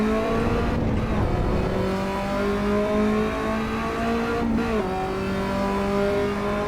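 An Alfa Romeo engine revs in the Assetto Corsa EVO racing game, a sustained mechanical drone that climbs steadily in pitch, dips sharply during gear shifts, then rises again, loud and continuous with no talking.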